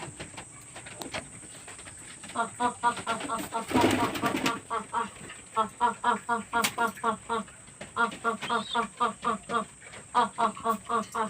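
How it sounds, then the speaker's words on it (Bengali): Pigeons cooing and clucking in repeated short bursts while feeding, close by, with a brief flurry of fluttering wings partway through. "পায়রাগুলো আমার অপেক্ষায় আছে এবারে এদেরকে খেতে দেবো"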